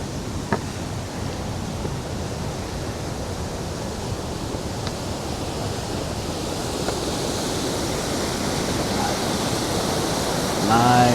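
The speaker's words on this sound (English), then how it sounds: "Love a good waterfall." A waterfall roaring steadily nearby, a dense, continuous rushing wash of falling water that holds constant throughout and swells slightly at the end.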